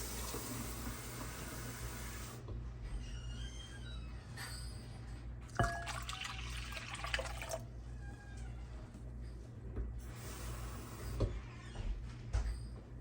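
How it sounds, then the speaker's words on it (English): Room-temperature water runs from a tap into a measuring cup in a kitchen, a faint trickling fill in intermittent bursts with small clinks and drips, no speech. "Now I'm gonna take my measuring cup and I'm gonna put a cup and a quarter of water in there, and I'm making it like room temperature."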